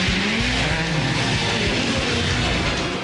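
Lightweight stunt car powered by a 1,300cc motorbike engine roars past at a Disney studio stunt show in Paris, a loud revving engine with rising and falling pitch and a hint of tyre noise, no voices.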